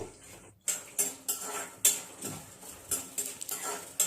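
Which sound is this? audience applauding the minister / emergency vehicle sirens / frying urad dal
frying urad dal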